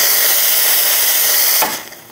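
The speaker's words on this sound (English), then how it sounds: "Our steam wand has just loads of steam." A Nuova Simonelli Musica espresso machine steam wand blasts a loud, steady hiss of steam that holds for about a second and a half, then cuts off sharply and fades.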